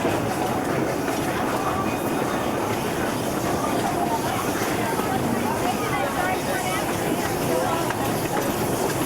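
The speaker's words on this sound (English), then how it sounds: "That's all 4 trains." A train rumbles past steadily with a constant low roar and faint rhythmic clatter throughout.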